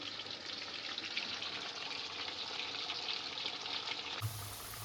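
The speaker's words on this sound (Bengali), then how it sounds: "আলুটা ভালো করে ভেজে নিই" Steady broadband sizzling of potatoes frying in oil, continuous and close, with a brief low hum entering near the end.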